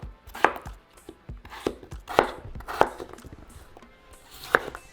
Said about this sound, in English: So cut it in half, and then cut it in half again, and then into small little cubes.